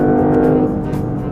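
A Lexus LBX Morizo RR, a 300-horsepower small crossover, revs hard to around 7000 rpm and then upshifts, with a loud, sustained engine drone heard from inside the cabin on track.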